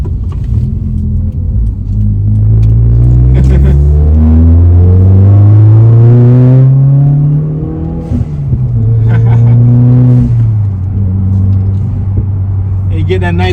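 Subaru WRX boxer engine revving up through gears with rising pitch sweeps, loud and close from inside the car, shifting down then pulling again, a voice speaking over it.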